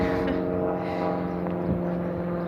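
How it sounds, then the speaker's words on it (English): A loud airplane passes overhead near a park outside an arts venue in Essex, a steady low droning engine rumble that fills the background evenly and close by, with no talk. "There's a really loud plane."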